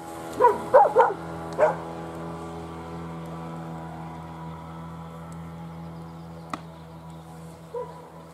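A motorboat travels down a taiga river, its engine a steady mid-distance drone running throughout, with a few sharp dog barks near the start.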